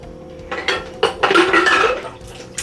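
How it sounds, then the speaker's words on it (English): Glass jars knocking and clinking together in a kitchen sink basin filled with steriliser solution, a few sharp clinks followed by a longer rattling, sloshing burst up close. "So here's my glasses sterilising in their kitchen basin."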